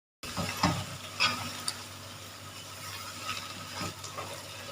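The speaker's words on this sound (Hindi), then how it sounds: "इसको आपने एक दफ़ा मिक्स कर देना है, इसको ज़्यादा पकाने की ज़रूरत नहीं है इस स्टेज पे" Okra (bhindi) fry being stirred with butter in a pan, giving a soft sizzle with a few scraping, clinking strokes of the spoon in the first two seconds and a steady low frying hiss after.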